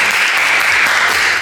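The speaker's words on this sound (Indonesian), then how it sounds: "Boleh saya minta tepuk tangannya?" Audience applause at an MC school presentation in Surabaya: dense, steady clapping from a crowd, loud and continuous throughout, with no talk over it.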